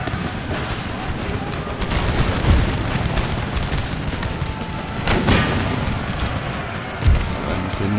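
Deep cannon booms go off at irregular intervals amid a dense, rumbling battle din in the video game Empire: Total War.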